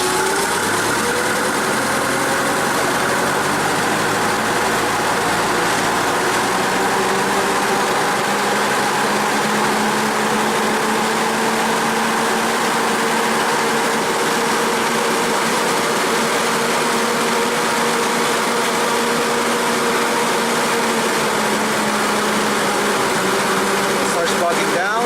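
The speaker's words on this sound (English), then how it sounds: "So let me try what happens when we try to rev it up." A Hyster forklift engine with a low-power fault runs continuously and close by, its pitch rising gradually as RPM is increased and held, with a steady droning tone and no voices.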